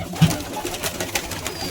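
A pigeon in a loft of birds for sale gives a short, low coo near the start, followed by soft rustling and faint background bird noise.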